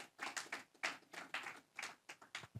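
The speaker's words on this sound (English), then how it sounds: "This is where you clap." A small audience at a trading AI workshop claps in a rhythmic, fairly faint patter of separate hand strikes that continues steadily, with no one speaking.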